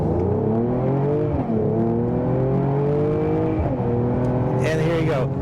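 2023 Mercedes-Benz GLE53 AMG accelerating hard from a stop, heard from inside: a loud engine note climbs steeply through successive gear shifts, with someone speaking over it toward the end.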